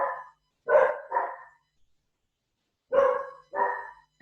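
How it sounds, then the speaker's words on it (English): Dogs barking downstairs in a house during a quiet hatha yoga session: five sharp, mid-distance barks, a quick pair, a single bark, then another pair after a long pause, with no one talking. "Sounds like the dogs are very, very busy about something downstairs"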